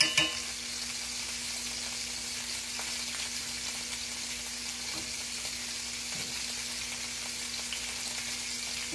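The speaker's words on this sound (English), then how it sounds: "Let it stir fry too." Food stir-frying in a pan gives a faint, even sizzle with occasional light stirring clicks, steady throughout with no speech.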